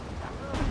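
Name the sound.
tank cannon shot in video game Steel Division 2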